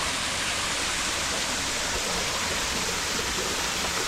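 Steady, continuous splashing of a small artificial waterfall falling into a pond to aerate the water, a constant broadband rush with no breaks, close and fairly even throughout.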